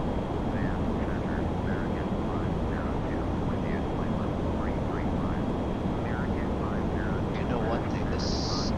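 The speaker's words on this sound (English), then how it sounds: "Sound on this plane is loud." Steady broadband roar of a Boeing 737-800 cabin in flight between Liverpool and Barcelona, loud and continuous throughout, with people talking over it.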